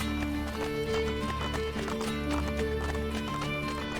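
Horse hooves clip-clop in a steady running rhythm through the Assassin's Creed Brotherhood game world, near and continuous under a layer of game music.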